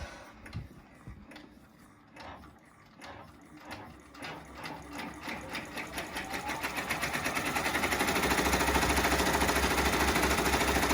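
Close, loud mechanical stitching from an embroidery machine sewing an in-the-hoop zipper bag, starting with slow separate clicks that speed up into a steady rapid rattling hum.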